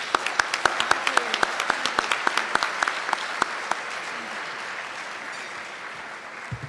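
Gala audience applause, with a few sharp, close claps standing out over a broad bed of clapping that gradually softens and fades toward the end.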